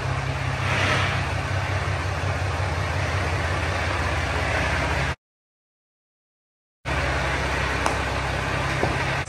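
A rebuilt, once-destroyed 2017 Ram Mega Cab Laramie with a Cummins diesel on its first drive, a steady low engine rumble running close and even, broken by a short silent gap before resuming.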